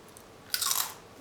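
A single crisp crunchy bite into a fried horse mackerel dish, one short close-up crunch midway through a quiet moment.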